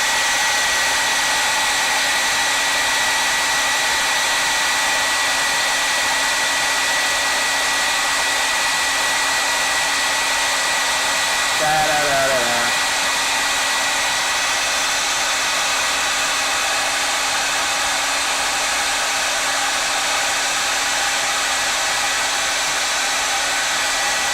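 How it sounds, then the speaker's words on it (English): A hair dryer blows steadily and loudly at close range to dry a layer of a sketch, a continuous whooshing drone that barely changes for the whole stretch. "Let's dry this layer real quick."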